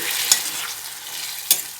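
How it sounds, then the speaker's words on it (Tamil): Thick tamarind sauce bubbles and sizzles in a pan nearby, with two sharp scraping stirs breaking the steady simmer. "நல்லா கொதிக்குது"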